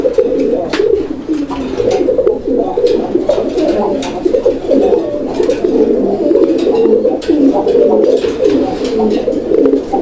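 Bombay pigeons coo steadily and close up, a continuous low throaty cooing from several birds that fills the whole stretch with no pause.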